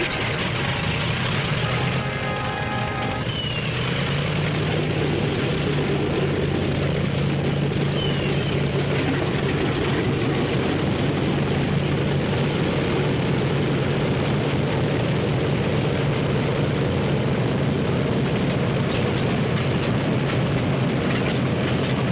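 WWII bomber aircraft radial engines start up together at an airfield in 1943, a steady loud droning roar that builds after a couple of seconds and holds continuously, with deep sustained rumble throughout.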